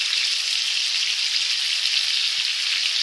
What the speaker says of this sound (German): die werde ich insgesamt 3 Minuten von jeder Seite braten und kommen dann zum Ruhen im Backofen.